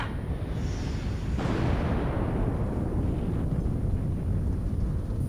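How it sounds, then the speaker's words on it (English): In the Destroy All Humans! remake, a UFO collides with a rocket and sets off a loud explosion, a sudden blast that rolls into a long, dense rumble lasting several seconds. "There was an explosion. The UFO and the rocket, they just collided or something."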